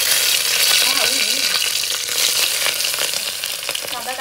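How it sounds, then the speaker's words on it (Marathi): Onion, green chilli and coriander frying in hot oil, giving a steady, loud, close sizzle with occasional soft stirring clicks throughout. "हा एक कांदा, मिरची आणि कोथिंबीर हे सगळं मी तेलात टाकणार आहे"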